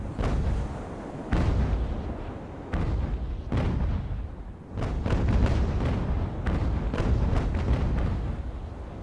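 Cannon broadside from sailing warships in Ultimate Admiral: Age of Sail, a rapid series of loud, heavy booms following one another in irregular bursts for several seconds with no talk.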